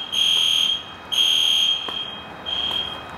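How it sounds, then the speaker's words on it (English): A smoke or fire alarm in a home in Dubai sounds three loud, high electronic beeps, each lasting about half a second, with short gaps between them and no talking. "This alarm keeps going off."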